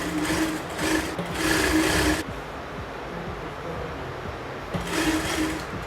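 Sewing machine stitching horsehair braid (can-can patti) along the end of fabric, running in two quick bursts, pausing, then starting again briefly; close and steady, with no talking.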